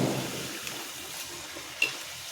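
Water poured into rice and urad dal murukku dough, a soft, steady hiss of pouring close by, with a small knock of a vessel near the end.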